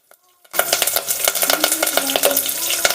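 Garlic hits hot oil in a pan while cooking toor dal. After a short quiet start it bursts into a loud, dense sizzle and crackle close to the microphone, with faint stirring clinks throughout.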